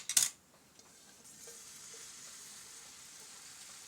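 Soya balls frying in a little oil over a low flame: a sharp clatter at the start, then a faint, steady sizzle with an occasional soft tap of a utensil.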